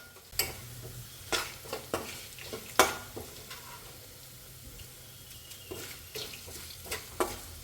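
Ginger, onion and curry leaves frying in a pan for a bilimbi pickle, a steady low sizzle with repeated sharp scraping strokes of a spoon stirring against the pan, no voices.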